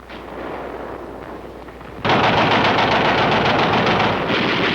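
Automatic rifle fire in 1951 Korean War combat footage: a sustained rapid burst of loud, close shots that kicks in abruptly after a stretch of lower rumbling battle noise.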